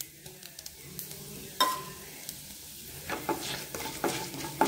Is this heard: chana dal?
yes